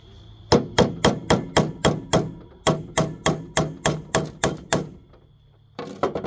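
A carburetor off a Kawasaki Eliminator 250 is struck with a hammer in a run of about eighteen sharp, evenly spaced metallic taps, broken by one short pause, then followed by a softer scraping rustle.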